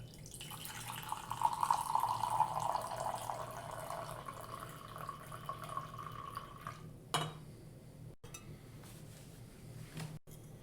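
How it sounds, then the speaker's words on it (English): Freshly brewed coffee pours from a Clever Dripper into a mug, a steady soft trickling stream lasting several seconds, close and quiet, ending with a few light clinks and drips. "We can actually pour into our mug."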